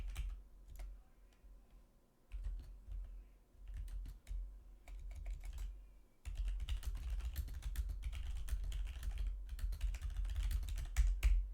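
Typing on a computer keyboard, bursts of quick clicking keystrokes, sparse at first and then dense and continuous, heard close with no talk.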